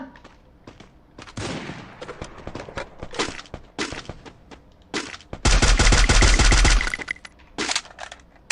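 Gunfire in the Free Fire video game: scattered shots and short bursts, then one loud, sustained volley of rapid automatic fire before the shooting turns sparse again.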